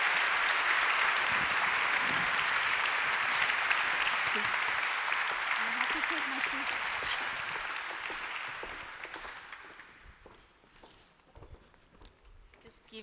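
An audience applauds at a peace prize lecture and award ceremony, the clapping loud and sustained for about nine seconds before thinning out and fading to quiet.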